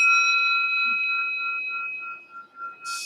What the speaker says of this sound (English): it's a beautiful bell, and it sounds peaceful